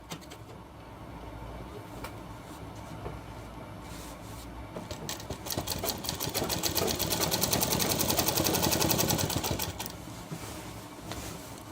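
A sewing machine stitches a shirt, its rapid needle chatter starting soft and intermittent, then building into a louder, continuous run in the middle before easing off, close by with no talking.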